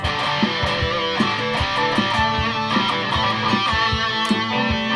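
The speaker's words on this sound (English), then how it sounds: "I'm going to go for a bit more distortion." A 1983 Japanese BC Rich Bich NJ series electric guitar played through heavy high-fuzz distortion chugs out thick, saturated riffs and chords in a steady rhythmic pattern, loud and close with no talking.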